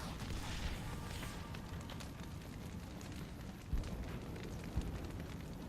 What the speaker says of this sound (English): Hopefully they're bombing for our sake.